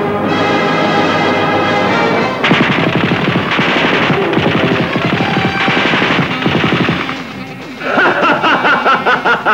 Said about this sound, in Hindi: इस मशीन गन वाले से बचना नामुमकिन है।